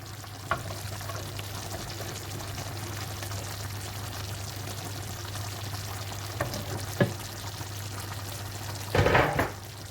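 Spring onions dropped into a hot frying pan, a steady sizzle carrying through with a few sharp clicks and a louder burst of spattering near the end; no one speaks.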